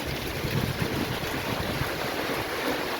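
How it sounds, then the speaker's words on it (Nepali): Big drops of rain fall heavily and continuously, making a dense, steady hiss with scattered low patters close by and no voices. "कत्रो कत्रो थुप्ला पर्दैछ त पानी त"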